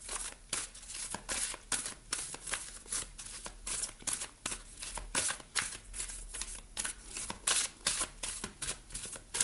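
A deck of oracle cards being shuffled close up, with rapid repeated riffling and flapping bursts in an uneven rhythm that carries on continuously, no voice over it.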